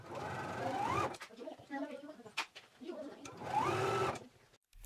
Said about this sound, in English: let's go ahead and sew, and then we'll trim.